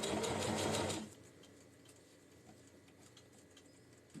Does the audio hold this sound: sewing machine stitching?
yes